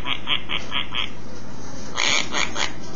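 A Quaker parrot mimics a duck with two bursts of short, rhythmic, honking squawks, five quick calls and then three more, close and fairly loud over a steady background hum.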